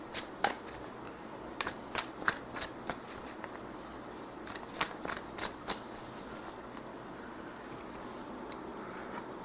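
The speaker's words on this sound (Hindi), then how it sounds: "Let me shuffle a few cards for you." Tarot cards being shuffled by hand in crisp, rapid riffling bursts and snaps, close and fairly quiet, clustered in short runs with brief pauses against a soft room hiss.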